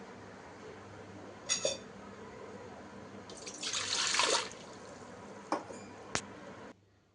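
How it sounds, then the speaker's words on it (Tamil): Water splashes and pours into a metal pressure cooker for about a second, framed by a few sharp clinks of metal, close by with no talking. "இப்போ குக்கரில் தண்ணி ஊற்றி பாத்திரம் வச்சுட்டேன்."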